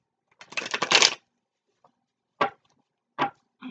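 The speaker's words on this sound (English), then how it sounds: "maybe the cards did need a little more shuffled" A deck of tarot cards is shuffled up close: a dense riffle lasting under a second, then a few short separate card flicks and taps with quiet gaps between.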